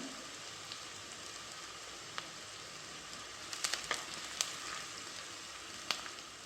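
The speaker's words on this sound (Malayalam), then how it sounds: "ഉള്ളി ചെറുതായി ഒന്ന് വഴന്നാൽ മതി." Sliced onions and curry leaves sautéing in oil in a pan for Kerala-style fish thoran, a soft, even sizzle with a few faint clicks and taps of a spoon against the pan.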